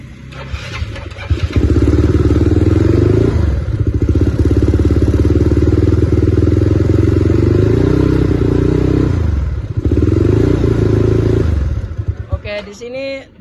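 A motorcycle engine cranks and catches during a battery cranking test, then runs with a loud, steady mid-pitched drone close by, dips briefly near the ten-second mark, revs again and cuts off, with a voice briefly at the end.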